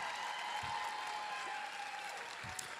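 Continuous crowd clapping in an ALS community tribute hall for Dr. Kimberly Goslin, an even wash of many hands heard from a distance, soft and unbroken throughout.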